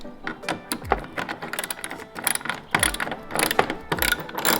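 A hand ratchet clicks rapidly in repeated bursts while backing out an 8mm screw on a BMW M5 Competition F10 rear diffuser, close and crisp with no talking.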